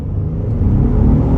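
A Ford F-150 XLT FX4 pickup with traction control off accelerates hard from a rolling start at about 20 mph, a loud, close, rising engine roar building steadily without any talk.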